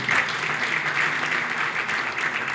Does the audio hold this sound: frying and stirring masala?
no